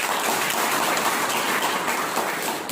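A Hindi-speaking class claps together in a room, a dense, steady wash of many hands patting at once, fairly loud and unbroken for a few seconds with no talking over it.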